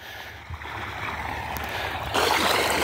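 Water gushes from a solar-powered pump on a farm, a steady splashing flow that grows louder and brighter near the end.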